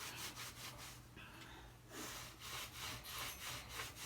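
Steady rough scrubbing and rubbing while a parrot cage gets a thorough cleaning on every surface, continuous and fairly faint, with brief pauses in the strokes.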